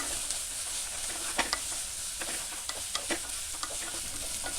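Onions sizzle in a pan for a mushroom stew, a steady close frying hiss broken by occasional stirring clinks and scrapes, with no voices.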